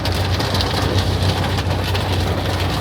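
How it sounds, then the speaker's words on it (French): Steady, heavy rain patters densely on a car nearby near Mount Bromo, Indonesia, with a low rumbling hum underneath. "Ça pleut."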